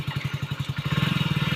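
Motorcycle idling during a riding lesson, its engine thumping in a fast, steady pulse close by and fairly loud, with no voices.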